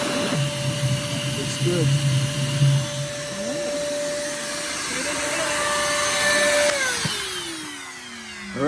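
A vacuum drones loudly and steadily while sucking yellowjacket wasps out of a nest, with a shifting whine and bumps of debris, as people talk briefly over it.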